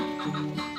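A female red junglefowl gives a couple of short, throaty clucks close by near a hut, with a faint hum underneath.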